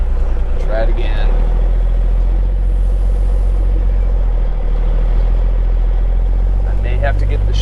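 A truck engine idles and rumbles steadily while a dump trailer is being repositioned, with a loud, continuous low drone throughout and brief talk near the start and end.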